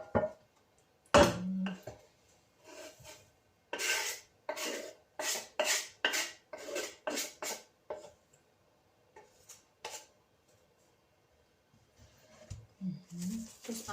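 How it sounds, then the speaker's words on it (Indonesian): A knife slices through fresh cucumber on a board for a salad, giving a run of crisp, evenly spaced cutting strokes, close and fairly loud, with quiet gaps before and after. "Terus aku iris sama ketimun."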